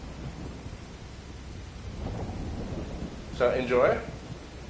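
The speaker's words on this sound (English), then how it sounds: "Very thunderous where we are at the moment." Thunderstorm with heavy rain pouring down outside: steady rain hiss with a low rumble of thunder building midway, and a voice speaks briefly over it near the end.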